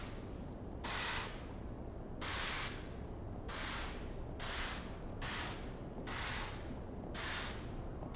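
Short repeated hissing bursts of makeup setting spray misted onto a face, about six quick pumps over a constant background hiss, close and fairly faint.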